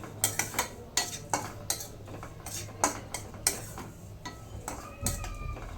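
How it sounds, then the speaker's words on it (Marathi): Oats being roasted in ghee in a pan for oats kheer, stirred with a spoon that scrapes and clinks against the metal in a steady run of sharp taps and scrapes, close and clear, with a faint sizzle beneath. "ओट्स चांगले भाजून घ्यायचे तुपामध्ये."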